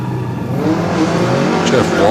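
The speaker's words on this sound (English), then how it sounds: "Jeff Walsh making his way to the top of the mountain now in his little special" Repco Holden special race car climbing a mountain hillclimb course, a near engine note revving and rising steadily over two seconds while a commentator talks over it.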